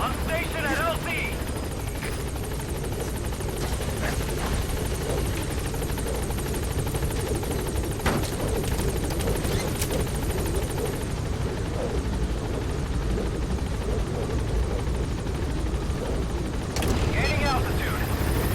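The Pequod helicopter arriving in Metal Gear Solid V, with a loud, constant rotor thrum and turbine whine close by while a radio voice speaks over it.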